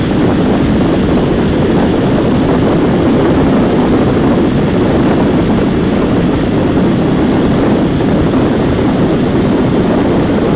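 A motorcycle at high speed, roughly 75 mph on a windy road, fills the clip with a loud, steady, broadband wind roar from start to finish, with no talk.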